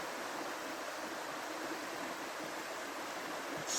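A river flows through a rainforest, a steady broadband rush of water heard evenly and softly at a distance, with no voices over it.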